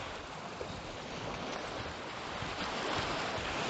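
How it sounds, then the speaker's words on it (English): Waves on the shore of a vast, sea-like lake near Bujumbura, Burundi, make a steady broad wash, blended with wind rumbling against the microphone. "going to sleep with the sound of this, to the sound of the water every night"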